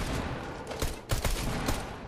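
Bursts of gunfire from a shooting video game, several quick rapid shots in clusters over a steady background of game noise, loud and close.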